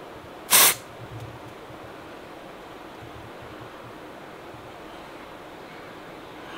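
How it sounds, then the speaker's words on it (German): A single short, loud burst of deodorant spray from an aerosol can, lasting a fraction of a second, followed by a quiet hissy room background. "also ich sprühe das jetzt da hinein."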